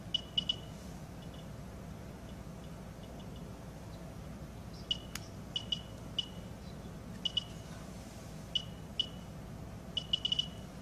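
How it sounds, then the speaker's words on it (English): A CT007 personal radiation detector with its sound turned on gives sparse, irregular, sharp little clicks and beeps, faint and scattered in loose clusters over quiet background hiss, with no talk. "turn on the sound, which will give immediate feedback to the presence of radiation"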